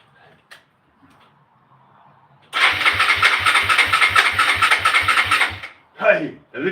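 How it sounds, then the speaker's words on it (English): A motorcycle engine cranks on its electric starter and catches at about two and a half seconds, running loud and close with a steady pulsing rumble for several seconds before cutting out, then a brief revving burst follows. "Hey, electric start works."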